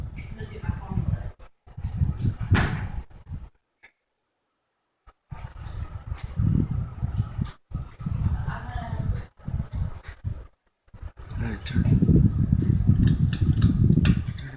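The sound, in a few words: ceiling fan running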